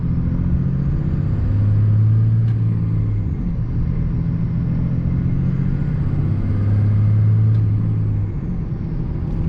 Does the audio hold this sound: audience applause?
no